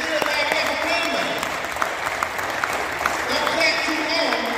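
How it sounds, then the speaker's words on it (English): An audience at a multifaith gathering to end mass incarceration applauds and cheers, dense clapping spread through the room with voices rising over it. "Don't clap too long."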